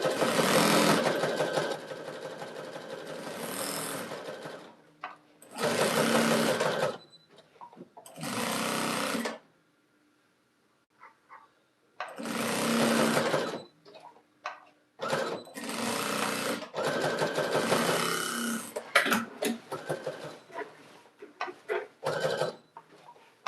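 A longarm quilting machine stitches across a jelly roll rug quilt in loud, dense whirring runs of several seconds each, broken by abrupt stops and silent pauses, then a longer stretch of stuttering bursts.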